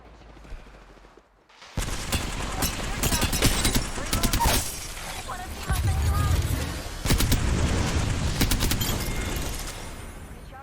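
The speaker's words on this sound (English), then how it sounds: "Getting shot at." Rapid gunfire and explosions in the Apex Legends video game rattle on continuously for about nine seconds, loud and dense, with game voice lines mixed in.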